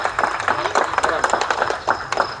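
Audience clapping at a colony Shiv Jayanti celebration, a group keeping time during a lathi-kathi martial stick display, steady overlapping claps with rhythmic peaks throughout, fairly close.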